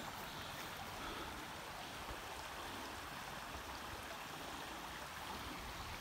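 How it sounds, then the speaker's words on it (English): River flowing beside a walking trail, a soft steady broadband rush of water heard at a distance, faint and continuous without pauses. "this trail kind of hugs the river for a while"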